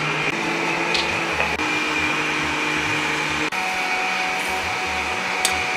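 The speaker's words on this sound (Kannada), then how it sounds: "ಈಗ ಒಂದು ಅರ್ಧ ಹೋಳು ತೆಂಗಿನಕಾಯಿ ಇದನ್ನು ರುಬ್ಬ ಕೊಡ್ತಾ ಇದ್ದೀನಿ" A kitchen mixer grinder whirs steadily while grinding half a coconut into a smooth paste, a loud, close motor drone with a churning low pulse from the jar, running without pause and no talking.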